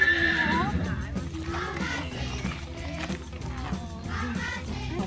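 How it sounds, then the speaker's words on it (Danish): Icelandic horse whinnying at the start, a high, wavering call over a busy outdoor background of rustling and low murmuring voices. "Min hest hedder Loa, og den er rigtig sød."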